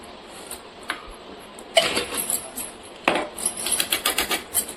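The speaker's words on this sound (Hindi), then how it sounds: "एक चम्मच से इसको मिला देंगे।" Spoon clinking against a bowl while stirring panchamrit with ghee and jaggery or sugar, a few sharp taps followed by a quick series of close, bright scraping clinks.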